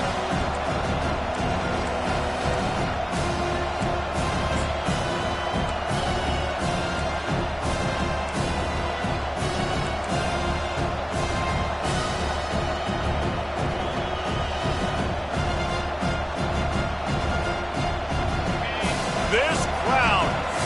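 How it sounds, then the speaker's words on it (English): A packed football stadium crowd at a Clemson versus Miami game roars continuously and loudly, a dense wall of cheering that runs the whole time beneath a commentator's voice. "This crowd, full throat, splitting the eardrums"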